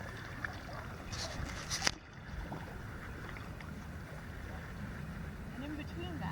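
Stand-up paddleboards paddled across Walchensee lake, with soft water swishes and steady wind noise under a brief voice, plus a sharp knock near the two-second mark.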